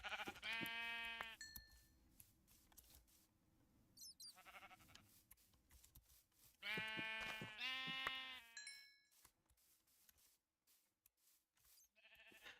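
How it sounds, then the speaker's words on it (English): Sheep in the Minecraft GregTech New Horizons modpack bleat twice, separated by several seconds: a wavering cry at the start and a longer, louder one midway, with brief chime tones and soft game noise between. "That's a lot of sheep here."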